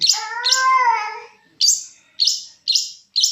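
Small bird close by giving a sharp chirp followed by a long warbling whistle, then several loud separate chirps at regular intervals, clear against silence.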